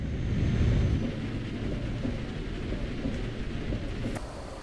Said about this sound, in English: it was raining and it that rain is very loud